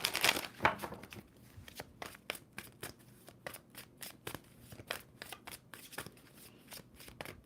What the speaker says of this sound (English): Two more shuffles for Libra.